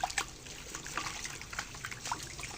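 Small stream of water trickling and dribbling while palm fruit is washed for making palm oil, a faint, close, uneven patter of drips and splashes with no talking.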